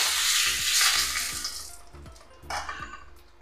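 Cumin seeds, dried chillies and a bay leaf fry in hot oil, producing a loud, close, hissing sizzle that fades somewhat, then flares again briefly. A faint rhythmic low knocking runs underneath.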